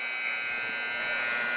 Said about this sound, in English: The buzzer sounds, ending the period.